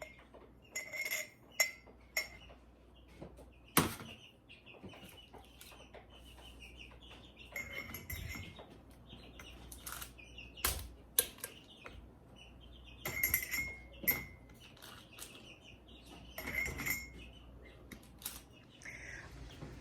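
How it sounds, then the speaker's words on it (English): Glass canning jars clink and tap as sausage patties are packed into them, with sharp bright clinks scattered across a quiet kitchen backdrop and a few louder knocks. "And we'll start filling the jars, and we'll see how many we get, okay?"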